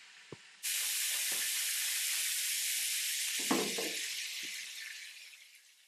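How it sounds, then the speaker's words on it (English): Butter dropped into a hot pan on a stovetop for cooking fish bursts into a loud, steady broadband sizzle that holds for several seconds with a couple of soft knocks, then slowly fades. "Drop a little butter in there."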